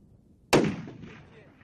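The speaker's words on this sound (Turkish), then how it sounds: "Keskin Nişancı timinin atış eğitimiyle tim dayanışma parkurundaki eğitimini takip eden Soylu, başarılı personele hediye verdi." A single sharp rifle shot cracks from a commando sniper team at shooting training, followed by a fading echo that trails off over about a second.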